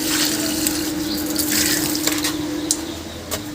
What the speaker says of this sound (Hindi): इस गमले को भी पानी देता हूँ और इसको भी देता हूँ पानी।